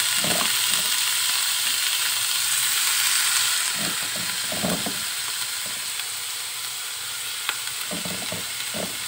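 Bitter gourd fries in a pan with garlic, onion and carrot, a steady loud hiss and sizzle with intermittent scraping stirs of a utensil against the pan.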